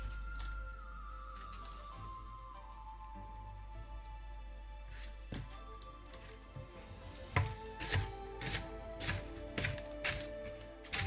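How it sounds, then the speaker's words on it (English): A knife taps against a cutting board in a quick series of sharp chops through green onions that grow louder toward the end, with a low hum beneath. "chop up our green onions."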